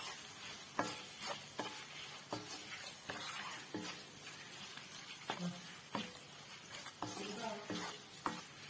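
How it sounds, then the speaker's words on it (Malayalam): Chili powder is stirred into a banana stem pickle mixture in a pan, with soft sizzling and frying underneath and rhythmic scraping strokes of a spoon repeating roughly once a second, all fairly faint. "മുളക് പൊടി ചേർത്ത് നന്നായിട്ട് ഇളക്കി കൊടുക്കാം."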